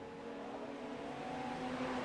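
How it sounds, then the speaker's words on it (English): A Radical race car engine revs at Road America, heard as a steady distant droning whine with a rising tone, faint and continuous without talk. "He's still got revs there."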